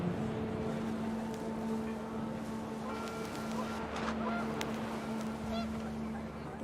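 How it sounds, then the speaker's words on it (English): Panicked geese honk in the video game What Remains of Edith Finch as the wind picks up. The honks rise over a steady, humming tonal backdrop and dense ambient noise throughout. "The wind picked up, and panicked geese appeared and quickly went."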